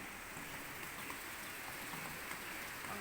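Steady rainfall hisses continuously and evenly, a dense wash of drops with no talk and no breaks.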